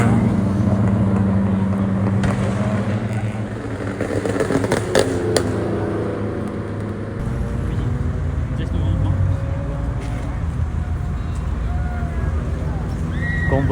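A convoy of cars, including Honda Jazz hatchbacks, rolls past at night in Kuantan, a loud steady engine and road rumble that swells and shifts as vehicles pass, with people talking over it.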